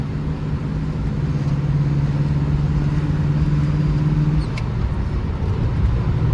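A 1979 Pontiac Firebird Trans Am cruises along with a steady, loud engine drone heard from inside the car, holding an even low hum with a slight shift in tone toward the end.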